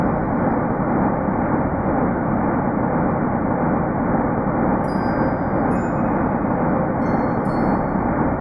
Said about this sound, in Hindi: यह ब्रह्मांड की सबसे प्राचीन आवाज है जिसने हमें जन्म दिया है।